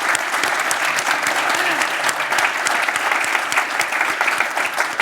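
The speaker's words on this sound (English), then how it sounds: "please join me in thanking Gita Gopinath" Loud, steady applause from the audience at a talk on geopolitics and global trade, a dense wash of clapping that continues evenly with no break.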